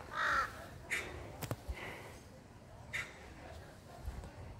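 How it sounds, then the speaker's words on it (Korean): Crows caw a few times at a temple courtyard by a mountain spring, the calls moderately distant and scattered among faint outdoor ambience. "까치도 오고 까마귀도 오고 기분이 좋네요."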